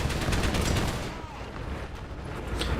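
War Thunder machine gun rattling in rapid, steady bursts, loud and close, with a brief dip mid-way before the firing resumes, and a voice talking faintly underneath.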